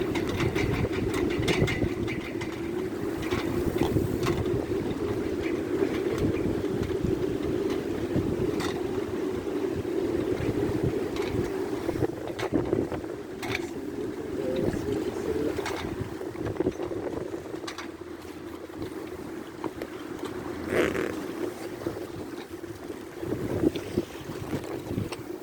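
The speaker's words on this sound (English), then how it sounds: "Can you hear the sails?" Wind presses against a sailboat's sails at sea, making a steady rushing, buffeting noise with flapping and microphone wind gusts that carry on throughout.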